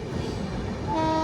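A passenger train running on the Rajkot to Ahmedabad route in Gujarat rumbles steadily nearby, and a sustained horn tone sounds briefly near the end.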